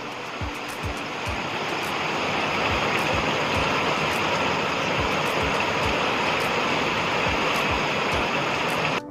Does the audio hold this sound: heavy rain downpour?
yes